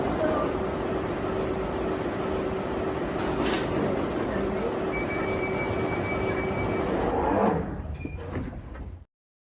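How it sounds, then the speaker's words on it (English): A London Underground train stands at a platform with a loud, steady rumble and hiss. A high tone sounds in the middle, and the noise swells, thuds and cuts off near the end as the doors close. "Mind the gap between the train and the platform."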